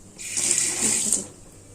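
Water from a kitchen tap runs over hands for about a second, a close, bright, hissing splash that rises and then fades as the flow stops.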